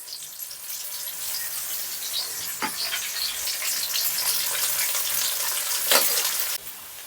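Curry leaves and onions drop into hot oil for a Gongura crab curry, setting off a steady, loud sizzle and spatter with two sharp crackles partway through, then a quieter tail; no one speaks.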